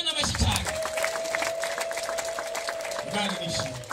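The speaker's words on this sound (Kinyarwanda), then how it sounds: "Mukomere Imana amashyi cyane." A church congregation claps loudly for God, a mixed patter of hand claps with some cheering, over a sustained tone and voices talking in the background.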